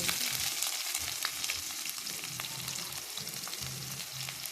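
Onion, green chilli, cumin and mustard seeds frying in hot oil, a close, steady sizzle with faint crackles and occasional soft scrapes of stirring throughout.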